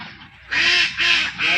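Ducks at a fish-and-duck farm in Raipur, Lakshmipur, giving three loud, close nasal quacks in quick succession over faint background noise.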